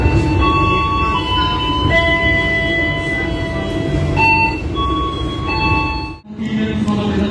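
The Brantas economy train of PT Kereta Api Indonesia pulls into a station with a steady heavy rumble, long sustained metallic squeals and tones over the top, and a brief dip near the end.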